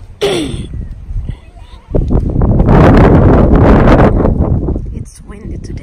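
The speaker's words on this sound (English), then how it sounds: "It's windy today." Strong wind gusting across an open farm in Australia, a loud broadband rush that swells and holds for several seconds, with goats bleating near the start and a voice speaking briefly.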